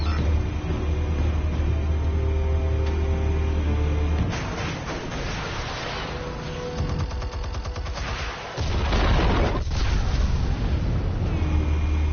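Explosives detonating during a Batman interactive drama scene: heavy low rumbling blasts and crackling debris roll on for several seconds, with a deep surge near the end, loud and close, with no voices.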